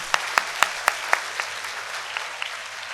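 A school audience claps in a short run of evenly spaced, fairly loud claps that quickly fade into scattered, fainter claps, with no talking.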